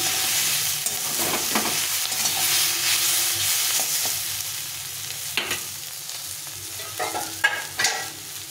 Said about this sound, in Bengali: সবজিটা সুন্দরভাবে ভাজা ভাজা হয়ে গেছে।